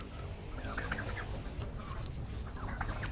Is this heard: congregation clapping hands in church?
no